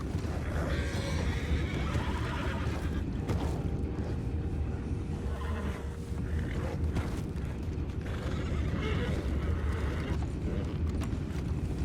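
Horses neighing in the video game Red Dead Redemption 2, with creaks and a dense, steady bed of in-game ambience beneath them.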